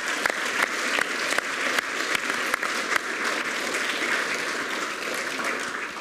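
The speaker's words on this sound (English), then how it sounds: "Let's give Angel a round of applause" An audience at an Easter Sunday service at Southcourt Baptist Church gives a steady round of applause, a dense wash of many hands clapping throughout with a few sharper claps standing out near the front.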